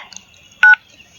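A single short, loud keypad tone sounds as a phone key is pressed to dial a water pump motor controller, set against faint background noise.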